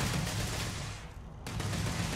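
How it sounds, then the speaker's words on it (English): Rapid gunfire in the space game Starfield, a dense, continuous fusillade of overlapping shots that fills the whole stretch, briefly thinning for a moment before resuming at full volume, with no talking. "Stop shooting me!"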